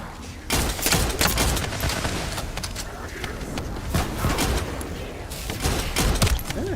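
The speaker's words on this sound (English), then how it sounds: "Love the mod on this gun that makes it shoot off and hit others." Modded gun in The First Descendant fires sustained rapid bursts, dense and loud over a busy game mix, with recurring sharp impacts throughout.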